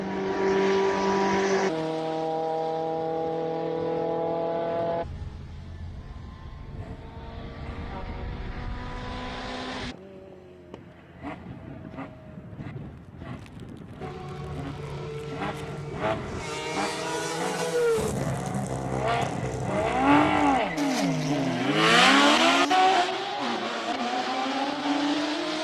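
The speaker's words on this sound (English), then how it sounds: "Looking forward to see the time on the 20B Rotary RX-7." Mazda RX-7 with a 20B rotary engine racing up a hillclimb course in Cape Town, a loud revving engine note rising and falling through gear changes, passing close with a sweeping pitch shift.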